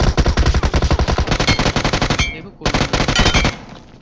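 Rapid automatic gunfire in a battle royale game firefight, loud and close, long sustained bursts with a brief pause before another burst resumes.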